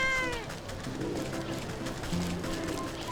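A cat meows in the video game Wytchwood, a short mewing call at the start followed by soft cooing and chirping game ambience, quiet and close.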